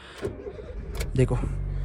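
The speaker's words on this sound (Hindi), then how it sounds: "Let's start the engine." A 2012 Honda Brio base model with about 150,000 km on it starts up: a short cranking burst, then a steady low idle rumble, close by and fairly quiet.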